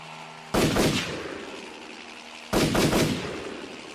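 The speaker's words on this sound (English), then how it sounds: "The 2 soldiers turned the gun towards the sky and Bond shot at the helicopter" Heavy gunfire aimed at a helicopter comes in two loud, sharp blasts about two seconds apart. Each crack rings out with a long rumbling tail and there is no talk over it.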